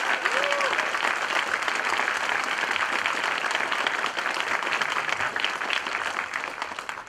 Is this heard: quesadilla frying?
no